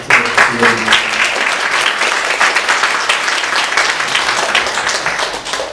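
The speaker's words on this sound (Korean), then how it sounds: "잘 행복한 시간 되시라고 격려를 해드리고 박수를" Sustained applause from a church congregation during a Sunday worship service, dense overlapping hand claps holding loud and steady for several seconds before easing slightly at the end.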